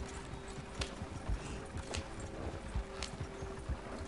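Horse hooves clip-clopping in the video game Red Dead Online, a quiet steady trot of soft thuds with a few sharper clacks, fairly distant and low in level.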